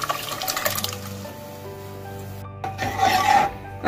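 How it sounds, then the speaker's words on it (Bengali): Boiled lentils are tipped into a pan for Sindhi-style dal dhokli, a short wet slosh and soft scraping against the metal, with a louder gloopy pour near the end. "এইবার আমি দিয়ে দিচ্ছি সেদ্ধ করে রাখা ডাল"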